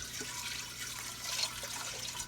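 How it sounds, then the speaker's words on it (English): Water steadily runs and splashes while herbs are rinsed out of a container during turkey brine preparation. A continuous, even wash of sound with no voices. "let me wash a little of these herbs out here"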